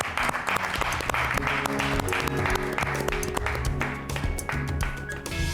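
Dense, sustained applause from a studio audience at the close of a television program, loud and steady throughout with music and voices faintly underneath.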